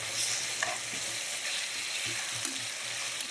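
Onions with ginger garlic paste sizzle steadily in a pan for mutton biryani, a continuous close frying hiss with occasional stirring scrapes and no talk.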